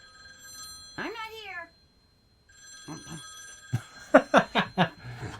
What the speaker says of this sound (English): Telephone clanging away and me trapped